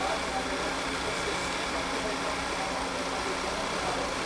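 A Volkswagen Tiguan engine with a faulty valve cover diaphragm idles unevenly with a steady mechanical hum and a low rumble, heard alone at a moderate level.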